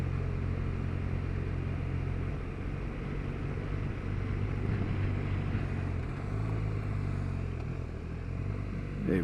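BMW R1200RS sport-tourer motorcycle pulling away in first gear, a steady, loud engine rumble that holds close and even throughout with a slight swell near the end.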